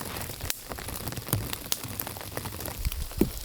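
Rain falls steadily outdoors during a heavy downpour, a dense hiss of drops with scattered sharper nearby splats and taps, no speech.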